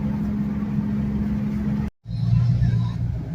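A Mopar car cruising at about 55 mph: a steady, loud, low engine drone with a brief dropout near the middle, then the same hum again with a slightly shifting tone.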